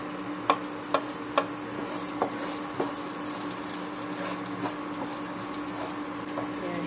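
Garlic sautéing in a small amount of leftover oil in a pan for tofu curry, a steady faint sizzle broken by a few sharp clicks and taps of stirring near the start, with no talking.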